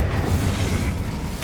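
A short, low whooshing burst from the Incendio fire spell in Hogwarts Legacy, a dull rumbling flare that fills the moment without any talk.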